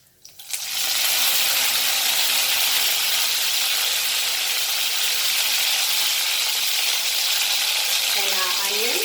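Curry leaves drop into hot oil in a frying pan for Goan beef fry, bursting into a loud sizzle that settles into a steady, close crackling hiss.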